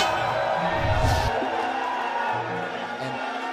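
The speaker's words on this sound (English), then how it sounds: "You can hear the crowd chanting, Backstab, Backstab." Large arena crowd of fans at the 2016 Crown Duel grand finals esports event, a loud continuous roar with rhythmic chant-like swells, heavier in the first second and then steady, with voices mixed in.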